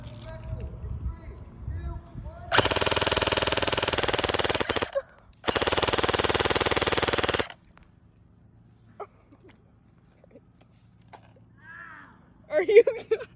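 Airsoft guns fire during a game in two long, loud full-auto bursts of about two seconds each, separated by a brief pause, followed by quieter outdoor sounds and a few faint voices.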